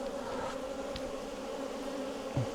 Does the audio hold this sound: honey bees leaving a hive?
yes